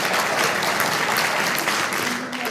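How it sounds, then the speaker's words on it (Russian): Studio audience applause at a Russian-language evening talk show, a dense steady wash of clapping filling the room at full level throughout. "Отличные аплодисменты, друзья."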